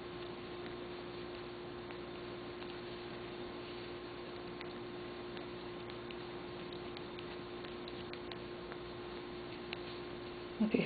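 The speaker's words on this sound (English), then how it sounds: "If you hear a slight hum in the background, that is our deep freeze." A deep freezer hums steadily in the background, a constant low drone with faint ticking noise, lasting throughout with no talking.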